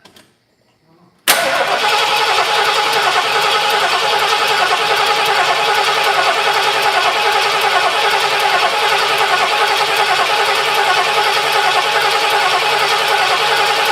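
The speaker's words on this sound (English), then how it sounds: "there's no fuel in that carburetor, so it's going to take a cranky crank to get fuel in there" A carbureted engine with a dry carburetor cranks for a moment, then abruptly catches and settles into a loud, steady, unbroken run that holds to the end.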